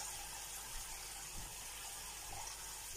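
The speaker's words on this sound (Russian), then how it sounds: "Сейчас я воду направляю." Tap water runs in a steady, quiet, unbroken rush for washing dishes in a home kitchen, with no voices over it.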